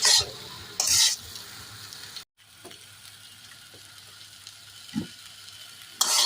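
Sweet potato slices sauté in a pan, a soft low sizzle broken by a few louder bursts of hissing and scraping spatula strokes, plus a brief knock, heard close with no talk.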